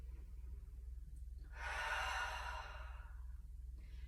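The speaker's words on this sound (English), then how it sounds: "Take a full breath in through your nose and exhale out your mouth." A single slow, full breath taken in through the nose and let out through the mouth during a guided yoga therapy session, rising from a quiet room hum to a soft, airy rush for about a second and then fading.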